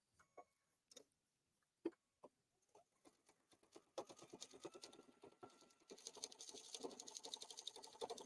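Sewing machine stitching a back stitch on a quilted grocery bag: a few scattered clicks at first, then a soft, steady rapid patter of needle strokes building up, faint and close.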